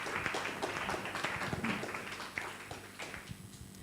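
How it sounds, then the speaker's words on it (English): Audience applause at a development-finance panel roundtable, a dense patter of many hands clapping at moderate volume that thins out toward the end. "A round of applause for Francis."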